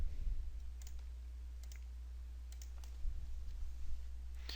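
Computer mouse clicks while drawing in SolidWorks: a few sharp, close clicks, two pairs spaced apart, over a low steady electrical hum.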